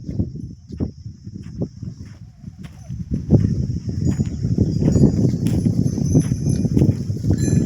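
A pair of bullocks pulling a bullock cart on a village farm, hooves clopping in a steady, close, uneven rhythm that grows busier, with faint insect chirping above.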